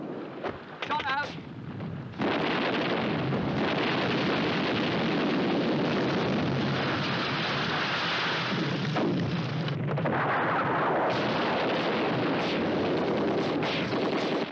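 A British Army artillery battery fires a fire mission, a heavy booming blast that rumbles loudly and continuously for many seconds, with a quieter stretch at the start.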